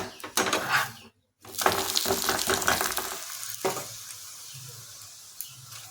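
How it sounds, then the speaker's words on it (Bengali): A cabbage-stuffed paratha fries in a little white oil on a pan, loud close sizzling with spatula scrapes and a momentary gap before the frying settles into a softer hiss. "একটু সাদা তেল দিয়ে এইভাবে পরোটাটা ভেজে নেব।"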